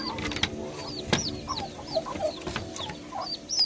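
Poultry on a farm where turkeys are raised, a close chorus of clucking and gobbling calls overlapping continuously with chirpy higher cries on top.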